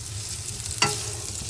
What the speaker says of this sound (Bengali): আলুগুলো একটু ভাজা হলে নামিয়ে এরপর